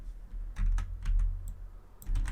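Computer keyboard keys being pressed, including the Shift key, while working in Substance Painter: a few soft, close clicks and taps in small clusters over a quiet background.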